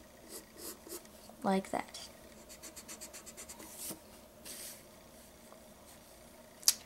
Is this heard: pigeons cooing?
no